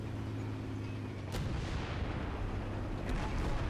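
Bombs explode in War Thunder, two muffled distant booms rising over a low, continuous rumble of battle noise.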